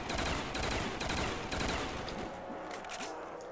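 Heavy continuous gunfire in the Call of Duty Black Ops Zombies mode on the Der Riese map, dense overlapping automatic bursts from several weapons, loud and sustained, easing slightly toward the end.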